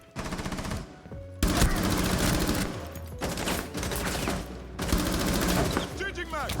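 Rapid automatic gunfire from Wamai's gun in a Ubisoft video game, loud and close, coming in several sustained bursts separated by brief pauses, with dense layered game effects and a faint voice beneath.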